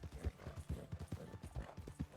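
A horse in the Red Dead Redemption roleplay game (RedM) bolts away, its hooves drumming in a quick, uneven gallop rhythm, fairly close but low in level, with no talk over it.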